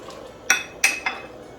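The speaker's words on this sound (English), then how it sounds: "Stir it around a little bit." A spoon stirring a lamb sloppy joe mixture seasoned with garlic powder and Aleppo pepper in a pot, giving three sharp metallic clinks against the pot, close and clear.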